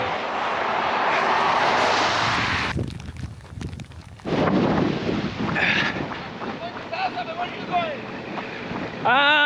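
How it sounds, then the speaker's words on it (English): Strong wind gusting outdoors in the Arizona desert near the US–Mexico border, a loud broadband roar buffeting the microphone, dropping briefly before returning, with faint chirps and a person speaking beneath it. "The wind is really starting to grip and rip out here."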